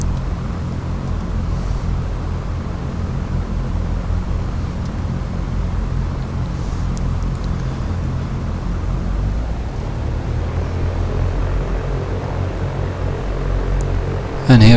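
Cessna taxiing in the X-Plane 11 flight simulator, a steady loud propeller engine drone that holds evenly throughout, with a short burst of noise at the very end.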